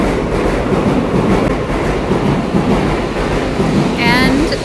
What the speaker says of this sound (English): That's the bullet train.